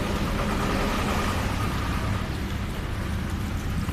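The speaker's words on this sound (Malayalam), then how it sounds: "ഇവിടെ ഫുൾ മഴ" Heavy rain pours steadily outdoors in a dense, unbroken roar that stays loud and even from start to finish, with no voices.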